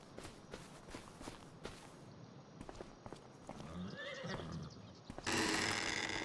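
Horses in Farming Simulator 25 neigh and clip-clop, a few distinct whinnies over quiet repeated hoof steps, with a louder burst of noise at the very end.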